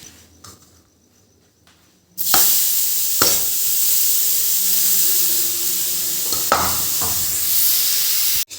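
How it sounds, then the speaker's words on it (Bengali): Grated carrots for halwa hit a hot pan with a sudden loud sizzle and are stirred, steady frying hiss broken by scraping strokes of the spoon, after a quiet start. "এটাতে এবার এই গাজরটা দিয়ে দেবো, দিয়ে একটু চালাতে থাকবো"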